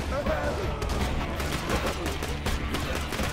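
Rapid shotgun blasts and gunfire ring out in the shooter game Borderlands 2, a dense, continuous barrage of loud shots and impacts, with a voice heard over the action.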